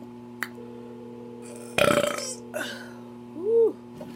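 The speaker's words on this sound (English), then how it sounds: "Keep burping." Loud, close burping during a burping challenge: a long raspy belch followed by a shorter one, with a brief tonal burp near the end over a steady background hum.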